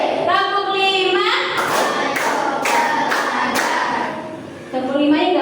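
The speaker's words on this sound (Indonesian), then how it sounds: "Tepuk 1, tepuk 2, tepuk 3, tepuk 4, konsentrasi, tepuk 5" Hand clapping in a clap-counting exercise, with sharp broadband claps spaced in a steady counting rhythm, heard under a voice chanting the count aloud.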